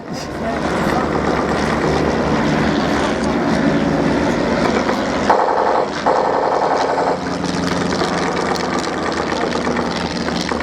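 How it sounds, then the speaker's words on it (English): Replica WWI biplanes, Fokker DR-1s and SE-5As, wheel through a mock dogfight over the Shoreham Airshow, their engines a steady droning roar that rises and falls, with a voice commentating over it. "looking at the swirling dogfight you see above you, you've got the two Fokker DR-1s"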